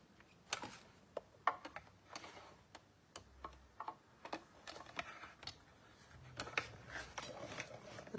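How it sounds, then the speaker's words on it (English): Scissors snipping out a small paper teacup shape for a handmade tea card, a string of close, quiet clicking cuts in an irregular rhythm with brief pauses between snips. "So I'm gonna cut out one teacup."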